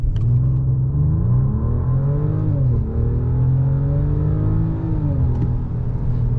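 A Mercedes-Benz S500 pulls hard accelerating from 0 to 100 at night, a deep steady drone whose pitch climbs through several gear changes, heard from inside.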